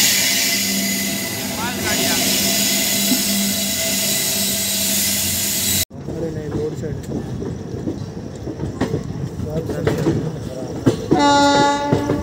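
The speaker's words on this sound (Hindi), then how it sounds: "आप देख सकते हो सामने से ट्रेन आ रही है" Indian passenger train on the Dadar to Gorakhpur route near Prayagraj rolling past with its engine, a loud continuous rumble and roar that cuts off abruptly, followed by rattling clatter and a short horn-like blast near the end.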